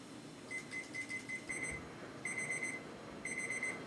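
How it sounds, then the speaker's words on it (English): Kitchen timer going off while noodles cook, sounding bursts of quick high electronic beeps in repeated groups over a soft background hiss, moderately faint and with no voices. "Okay, the timer is done."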